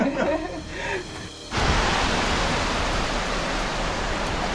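A waterfall heard up close, a dense, loud, continuous rushing roar that cuts in abruptly after a few seconds of quieter outdoor ambience with brief talk.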